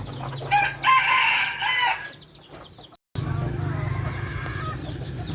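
A rooster crows loudly nearby, and after a short gap more crowing and clucking from chickens follow, with someone talking now and then in the background.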